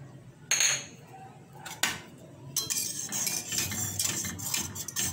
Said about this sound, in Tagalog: Continuous lang natin ang paghalo.